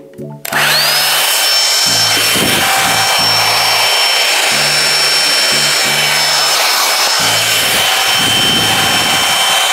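Revlon One Step hair dryer brush switches on and roars at high setting, a loud, steady airy rush with a thin whining tone, joined by intermittent low buzzing bursts.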